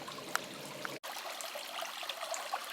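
A small stream trickles steadily past a stone-lined brook crossing beside a bridge near a beaver dam in Eastford, Connecticut, a soft continuous burble heard faintly and alone, with one brief dropout.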